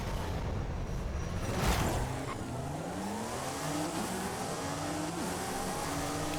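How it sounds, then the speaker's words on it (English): A Honda NSX race car engine in Forza Horizon revs and whines continuously, pitch climbing and shifting through gear changes, with a louder surge near the start and no talking. "Engine sound is something you have to get used to"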